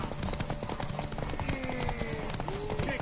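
Horse hooves clip-clopping in the Witcher 3 video game, a quick rhythmic trot close by under game music and ambient noise.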